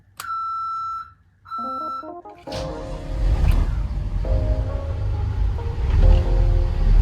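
Two electronic beeps sound, then a boat engine starts out of gear and roars, its pitch rising and falling as the throttle is worked, loud and close.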